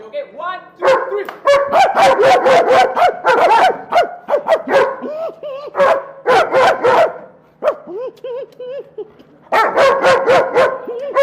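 Dog barking in loud, rapid bursts of repeated barks and yips, trading back and forth with people who bark in imitation of it; others talk between the bursts.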